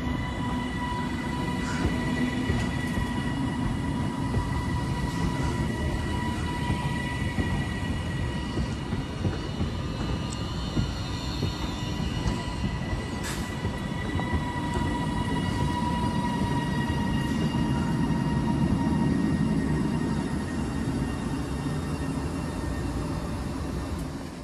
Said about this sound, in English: there goes the delayed 1127 Avanti West Coast service to Manchester Piccadilly